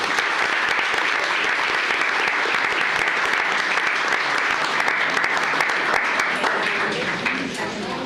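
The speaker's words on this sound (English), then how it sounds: "Let's give all them a big round of applause" A room at a county commissioners court meeting breaks into loud, steady applause for recognized county employees, continuous and full for about eight seconds with a slight taper at the end.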